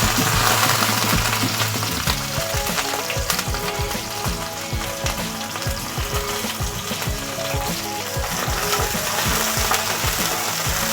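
Chopped onion hits hot oil in a pan for a vegetable dish with capsicum, carrot, tomato and paneer, producing a loud, dense, continuous sizzle and bubbling crackle, close and without voices.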